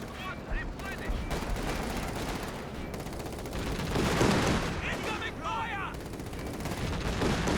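Artillery shelling and gunfire from a Company of Heroes 2 battle, a dense, continuous barrage of shots and distant booms layered with game sound, with a louder swell of impacts partway through.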